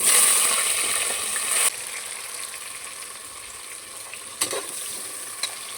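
Onions frying in hot oil for chicken biryani, a steady close sizzle that holds throughout, with a few sharp clinks from a utensil against the pan.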